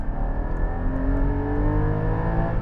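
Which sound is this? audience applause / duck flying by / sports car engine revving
sports car engine revving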